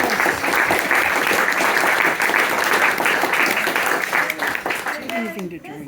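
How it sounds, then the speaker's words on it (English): An audience at a Texas speleology tribute gathering gives a dense, steady round of applause, close and loud, which thins out toward the end as the clapping dies away. "I'll give them a big round of applause"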